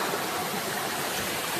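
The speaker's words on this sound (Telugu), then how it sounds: "రెండు వాటర్ ఫాల్ కలిస్తే సంగమం అంటారా?" Two waterfall streams meeting outdoors produce a steady, dense rush of falling water, even and broadband, with no voices over it.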